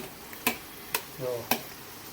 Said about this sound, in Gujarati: આ ફૂલ બફાઈ જાય ત્યાં સુધી આપણે એને આને હલાવશું